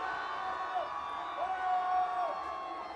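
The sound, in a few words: football game crowd cheering to distract kicker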